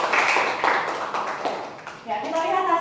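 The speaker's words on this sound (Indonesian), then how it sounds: "Beri tepuk tangan ke Gania." A short burst of classroom applause from a small group, fading as a voice starts speaking.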